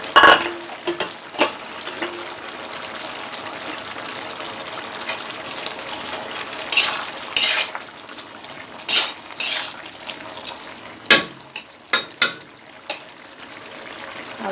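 Khada saag greens being stirred and cooked in a pan with a little water and spices, giving a steady sizzling wash with scattered sharp clinks and scrapes of a utensil against the pan, several louder knocks toward the end.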